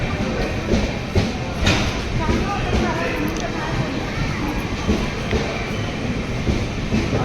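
A Konkan Railway Okha train runs near Kankavli station with a continuous, close rumble and rattle of the rolling cars while people talk over it.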